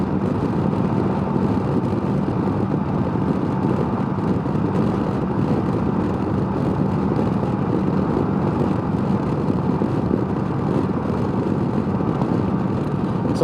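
Steady drone of a Yamaha C3 scooter's small engine while riding at cruising speed on a dry, mildly breezy evening, with constant wind rush over the microphone and no talking.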